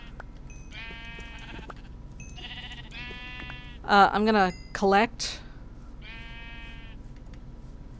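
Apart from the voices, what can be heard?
sheep bleating in Minecraft video game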